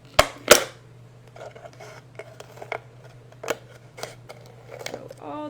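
Scissors cutting the bottom off a plastic bottle: two sharp loud snips, then a series of softer crackling cuts and plastic creaks, with a voice talking.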